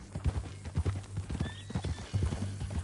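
Horse hooves clip-clop steadily at close range in the Red Dead Redemption 2 video game, with a brief high neigh partway through, fairly quiet overall.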